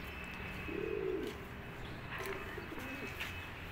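Faint pigeon cooing from birds kept at home, two soft low coos about a second apart over a steady background hiss, with no one talking.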